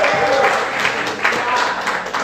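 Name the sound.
congregation applause in church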